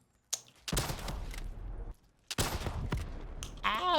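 A launcher fires in Black Ops 3 Zombies on Nacht der Untoten, two loud sustained bursts of rapid blasts separated by a brief pause, followed by a short warbling electronic tone.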